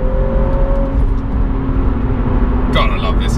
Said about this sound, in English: You can hear the engine note and off we go.